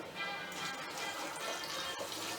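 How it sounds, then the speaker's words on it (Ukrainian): Hot brine pours steadily into a glass jar of tomatoes, a soft continuous splashing that stays fairly quiet throughout. "Наливаємо розсіл у баночку,"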